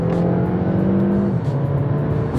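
An Audi A3 TFSIe plug-in hybrid roars under full-throttle acceleration after a downshift, its pitch rising, dropping briefly at a gear change, then climbing again.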